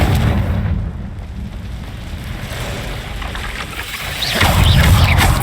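A Confringo fire-spell blast in Hogwarts Legacy: a loud, close, rumbling burst of low roaring noise that sustains for a few seconds and swells again near the end, with no voices.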